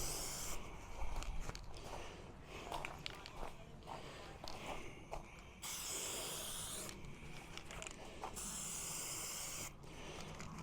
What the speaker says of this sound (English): I'm spraying this approximately 8 inches away from the target area, keeping the nozzle white all the time.